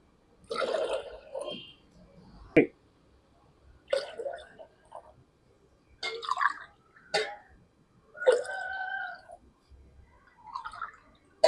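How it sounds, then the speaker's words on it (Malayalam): Water is poured from a glass into a buttermilk mixture for a rose-plant feed, in about seven separate splashing pours with quiet gaps between them. "അപ്പം നമ്മൾ പത്ത് ഗ്ലാസ് വെള്ളവും നമ്മൾ ചേർത്ത് കഴിഞ്ഞു"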